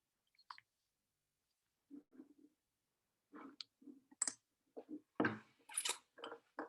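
Sparse, quiet clicks of a computer mouse while dragging out a rectangle in 3D modelling software, scattered in small irregular bursts across a near-silent room with no talking.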